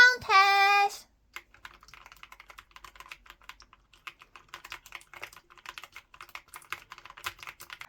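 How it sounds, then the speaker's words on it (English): Typing on an Epomaker TH40 wireless 40% mechanical keyboard with Wisteria switches and gasket mount: a steady run of light, close keystroke clacks following a brief tonal chime at the start. "Sound test!"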